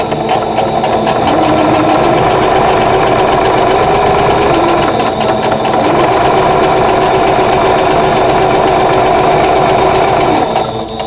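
A sewing machine runs steadily and loudly for the whole stretch, stitching a quarter-inch seam on a patchwork star quilt block with a continuous mechanical whir and rapid needle rhythm, with no voices.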